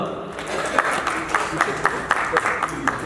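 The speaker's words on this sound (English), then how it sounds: "You can clap louder." Audience clapping at a travel and hospitality awards summit, a steady patter of hands with a few sharper claps standing out, moderately loud and continuous across the clip with crowd murmur beneath.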